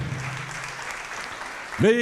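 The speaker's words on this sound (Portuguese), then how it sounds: "Vamos aplaudir mais, igreja." Church congregation applauding during a worship service, a brief wash of clapping that is soon cut into by a loud voice speaking near the end.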